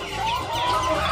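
Laying hens fill a coop with a continuous, dense chorus of overlapping clucks and squawks.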